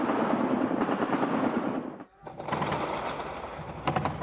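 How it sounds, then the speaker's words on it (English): Heavy anti-aircraft gunfire loosed in a barrage over the Libyan capital, a dense continuous roar of overlapping rapid shots with a brief lull midway before the firing resumes just as loudly. "his supporters unleashed another barrage of anti-aircraft fire"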